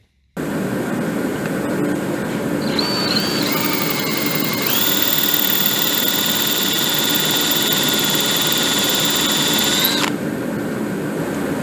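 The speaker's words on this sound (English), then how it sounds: "we're going to drill that hole a little deeper" A power drill bores a hole deeper into a Muncie 4-speed transmission part, a loud steady whine that starts abruptly, climbs in pitch partway through, holds, then cuts off after about ten seconds.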